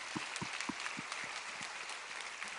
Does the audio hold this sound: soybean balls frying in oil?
no